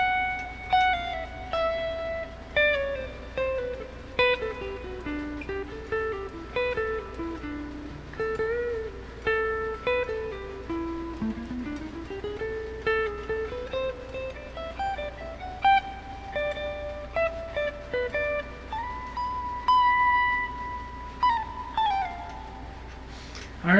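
Electric guitar picks out the chorus and instrumental interlude of a song, melodic single-note lines with slides and bends, played alone and up close at a steady moderate level with no voices.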